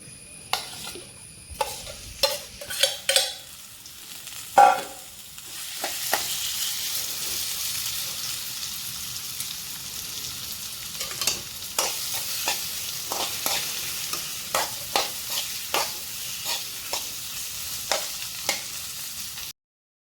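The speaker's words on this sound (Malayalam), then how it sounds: "ചട്ടി ചൂടായി കുറച്ച് വെളിച്ചെണ്ണ എടുത്ത് ഒഴിച്ചതിന് ശേഷം ഇത് ഫ്രൈ ചെയ്തെടുക്കണം ആദ്യം വേണ്ടത്." Ivy gourd fries in coconut oil in a hot pan with a steady hiss that swells after a few seconds. Repeated sharp scrapes and taps of stirring cut through, close and continuous.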